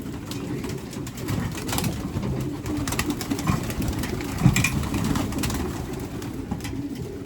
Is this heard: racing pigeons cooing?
yes